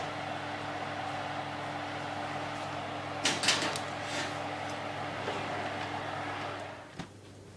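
Over a steady low kitchen hum, a brief clatter of an oven door and rack sounds as a cake goes into the oven, followed by a soft thud as it closes.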